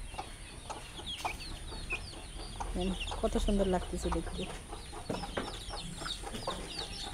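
Black Burmese chicks and chickens clucking and cheeping in a steady, busy chorus nearby, with a person talking over them partway through.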